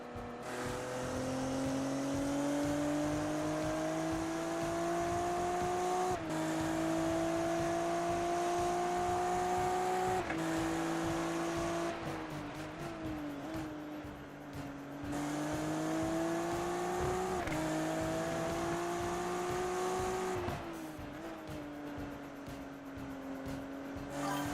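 A BMW GT race car circles Watkins Glen with a steady, droning engine note that rises and falls through gear changes, a sustained mechanical whine heard continuously from close by.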